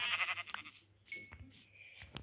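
Sheep bleating in the video game Minecraft, a few short wavering cries up front, then quieter game sounds and faint chimes over a low steady hum.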